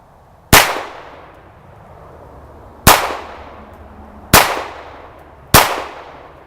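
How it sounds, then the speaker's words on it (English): A Ruger Mark IV Standard pistol fired at a target about ten yards away: four loud, sharp shots at uneven intervals, each with a short ringing decay, no voices. "take the first shots with the Mark IV Ruger"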